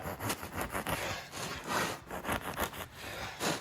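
A bread knife saws through a loaf of bread in quick, rhythmic back-and-forth strokes, each rasp close and distinct, with no talking.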